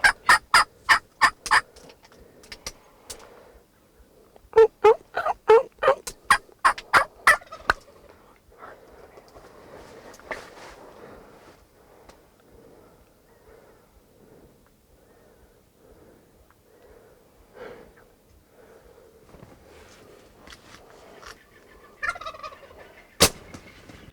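Wild Rio Grande turkeys gobble in Mexican hunting country. Two loud rattling bursts of rapid gobbles sound close by, followed by quieter scattered calls and rustling against the outdoor background.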